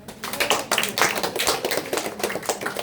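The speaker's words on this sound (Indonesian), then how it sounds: "tepuk tangan dulu" Children at a Sunday school gathering in a family home clap their hands together in a dense, fast patter that runs steadily for about three seconds, fairly close and with no talking.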